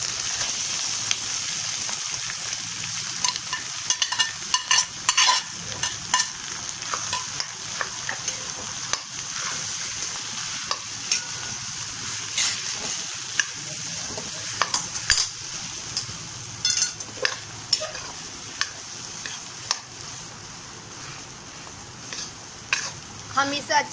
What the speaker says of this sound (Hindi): इसको चलाएंगे, लाल मिर्च डालेंगे, और आलू डाल के चलाएंगे।